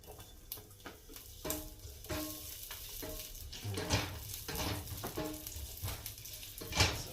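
Large garlic cloves frying in hot canola oil for a butter shrimp dish, a soft crackling sizzle with intermittent stirring and pan clinks, fairly quiet and close, no talking.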